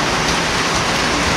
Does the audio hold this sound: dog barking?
no